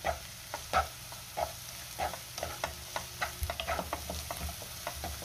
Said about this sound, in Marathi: आता आपल्याला ह्यामध्ये आले लसणाची पेस्ट घालायची आहे आणि पुन्हा 1 मिनिट मी चांगलं परतून घेणार आहे